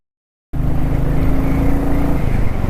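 A 2021 Royal Enfield Classic 350 motorcycle engine roars loudly and steadily up close, its tone dropping slightly toward the end as it slows for traffic.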